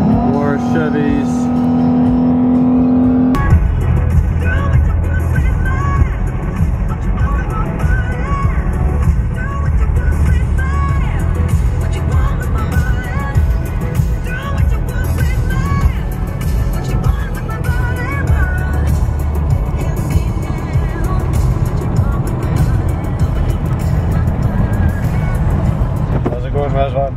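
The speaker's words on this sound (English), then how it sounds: "More Chevys." Chevrolet cars in North Carolina drive by with a steady, loud engine and road roar that runs throughout, while people talk over it.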